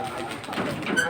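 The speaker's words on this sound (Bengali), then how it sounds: "এই যে দেখুন কবুতর আরো ছাড়তেছে" Racing and Giribaz pigeons released from a loft, cooing and calling with a soft flutter of wings as they fly out, steady and close, with faint voices nearby.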